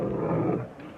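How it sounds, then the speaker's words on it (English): A low, rumbling bear growl from a video game, rough and throaty, sustained for about a second before easing off. "Here's a bear."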